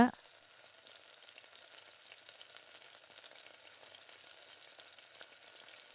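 Tomatoes sauté in a pan for hotel-style tiffin sambar, a faint, even crackling sizzle that carries on steadily after a short thump at the start, with no talk.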